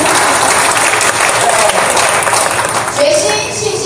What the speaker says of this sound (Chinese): 我们给我们的播放同工一个掌声。